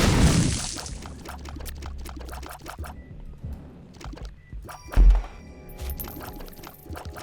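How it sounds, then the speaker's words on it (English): Bomb dropped and exploding in the video game The Binding of Isaac: a deep, thumping blast midway through, amid busy game sound effects of clicks, splats and hits. "I'm gonna drop a bomb."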